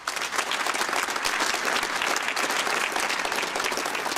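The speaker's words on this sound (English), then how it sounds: "Round of applause for them." A conference audience at PromCon EU 2024, a Prometheus monitoring event, gives a sustained round of applause for the sponsors. Many hands clap in a steady, even wash of sound that holds for several seconds without pause.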